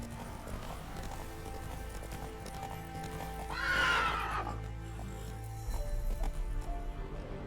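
Roach, a horse in The Witcher 3 video game, lets out one clear whinny midway, with soft hoof clip-clops and faint game ambience around it.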